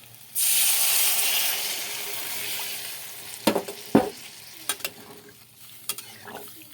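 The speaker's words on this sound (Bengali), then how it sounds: "দিয়ে দেবো পরিমাণ মতো জল দিয়ে দেবো।" Water poured into a pan of frying raw banana masala curry sets off a loud, sudden sustained sizzle and hiss that slowly fades, followed by a few sharp spoon clinks and stirring knocks; no talking.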